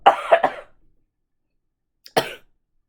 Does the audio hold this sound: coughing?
yes